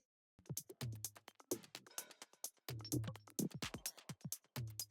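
Glitchy, texture-like percussion from a drum rack in a track: dense, choppy bursts of stuttering clicks and hits in a quick groove, fairly quiet and steady after a brief silent start.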